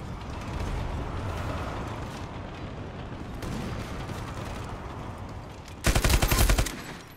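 A fast burst of automatic fire from the MK gun in the shooter game Ironsight, loud rapid shots packed into about a second near the end, after a stretch of steady in-game ambient rumble and mechanical noise.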